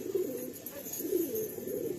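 Pigeons at a loft with birds for sale coo in low, soft, rolling phrases, several repeated calls close by over a faint background hiss.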